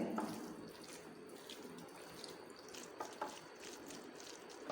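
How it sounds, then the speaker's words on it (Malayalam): Water poured into ground anchovy fish marinade makes a soft, steady trickling and splashing, faint and close, with a few small splashes and no talking. "കുറച്ച് വെള്ളം കൂടി ഇതിനകത്ത് ഒഴിച്ചു കൊടുക്കുന്നുണ്ട്."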